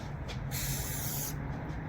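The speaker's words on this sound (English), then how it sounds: "I go in and I spray directly into the corner" A spray nozzle hisses in short close bursts into the corners of stained glass mosaic frames, a brief puff and then a longer steady spray over faint background hum.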